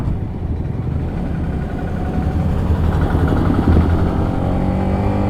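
A motorcycle rides along a village road in Bangladesh, its engine a steady, close, loud drone with slight swells in revving throughout.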